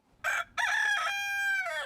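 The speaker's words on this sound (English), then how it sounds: "Dude is a Polish rooster" A Polish rooster crows loud and close from the chicken coop, one full cock-a-doodle-doo that breaks briefly before a long, drawn-out final note.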